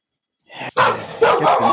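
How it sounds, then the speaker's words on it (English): Indoor dogs in another part of a house bark in a few short, sharp bursts after a moment of silence, with no speech over them. "I have dogs here too that are on the other side of the house, and they like to bark"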